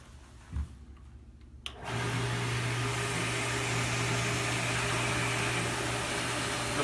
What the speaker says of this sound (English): So let me start the test bench.